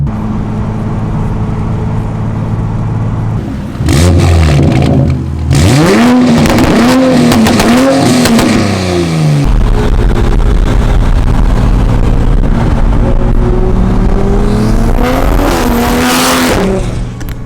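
Toyota Supra with turbos accelerating hard on damp ground, 305 tires spinning: loud, close engine roar rising and revving in repeated surges, with wheelspin and turbo sound through most of the run.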